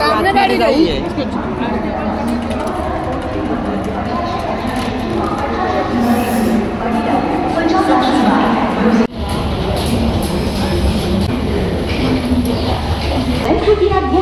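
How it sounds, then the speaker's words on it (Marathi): A train pulls into a platform at Lokmanya Tilak Terminus in Mumbai, a steady rumble of rail cars under constant crowd chatter and station noise, with people talking throughout. "ट्रेन आलेली आहे."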